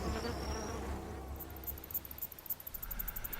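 A bee and a fly buzz near each other while the fly preys on the bee, giving a soft, wavering insect drone with fluttering wingbeat pulses and a faint high whine.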